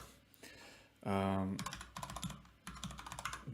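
Rapid clatter of typing on a computer keyboard, close and clear, coming in quick bursts after a short stretch of speech.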